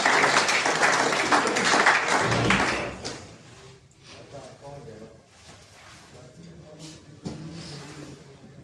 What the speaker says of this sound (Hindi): सभी विद्यार्थियों से अनुरोध करूँगा एक बार तालियों से सर का स्वागत करें